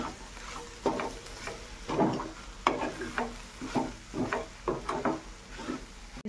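A spoon stirs bread roll stuffing mixed with red and green chili sauce in a pan, giving a series of soft, close scraping and patting strokes in an irregular rhythm with a faint sizzle beneath.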